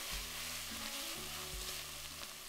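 Minced beef sizzles steadily in a pan over medium-high heat, a constant frying hiss with a low hum underneath. No one speaks.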